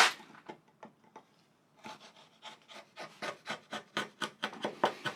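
A chisel held bevel down pares waste wood out of a groove with a series of short scraping strokes, a few scattered at first and then a quicker, rhythmic run of rasping cuts close by.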